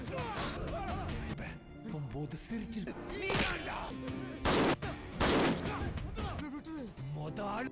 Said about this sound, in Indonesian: Para preman ditembak, tidak terkecuali Subba.